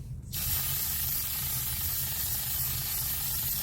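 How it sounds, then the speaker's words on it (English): A spray paint can hisses steadily onto Dollar Tree cones for a home decor sculpture, one continuous close, fairly soft spray starting abruptly and running for several seconds. "That's the spray paint I'm going to use."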